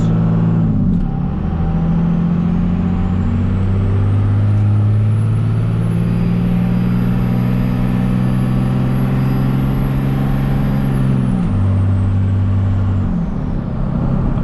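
A 1998-2002 Dodge Ram 2nd Gen with a 24-valve Cummins diesel on a test drive: a loud, steady engine drone heard from inside the cab, with the pitch rising and falling as it shifts through gears.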